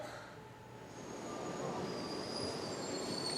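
A KRL commuter train pulls into Manggarai station, wheels squealing in high thin tones over a rising rumble of rail cars rolling closer, with no talk.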